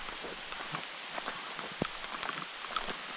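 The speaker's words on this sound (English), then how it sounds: "But here comes the rain." Rain pattering steadily on surfaces outdoors near a swamp and creek during a hog hunt with dogs, a soft, continuous hiss with scattered nearby drops and a few sharper taps.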